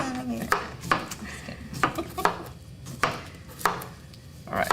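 A knife chops through cucumber on a board for a sandwich, about eight sharp, evenly spaced cuts close by, each a crisp thunk.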